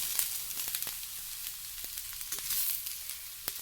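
Tomatoes added to hot oil in a frying pan, a steady close sizzle with crackling pops and a few light stirring taps throughout.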